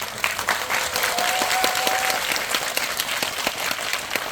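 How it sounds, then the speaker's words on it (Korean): A cinema audience at a film screening Q&A in a theater hall applauds actor Oh Jung-se, steady, full clapping from a crowd that holds evenly throughout with a few sharper individual claps. "고생하신 우리 정세 배우님께 박수 한번"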